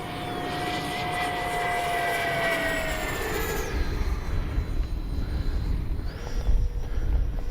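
An E-flite 70mm Viper RC jet dives at full speed, its ducted-fan whine sweeping past and fading into a distant rushing roar, with wind buffeting heard at the end.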